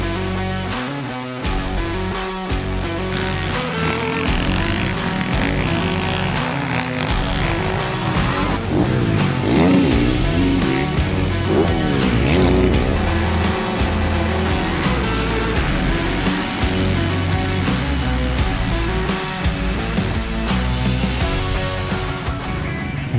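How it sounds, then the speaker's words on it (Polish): Motocross motorcycles at a northern Poland zone championship in Lidzbark Warmiński roar continuously and loudly, engines revving and rising in pitch as bikes pass close by, with several machines layered together throughout. "ten warkot motocykli niesie się po całym Lidzbarku"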